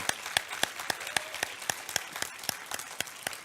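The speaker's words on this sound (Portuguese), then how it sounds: "Se você pode dar uma salva de palmas bem forte ao Senhor Jesus" A congregation at a Portuguese-language revival conference gives a round of applause, heard as regular, evenly spaced rhythmic claps in unison, fairly quiet and steady throughout.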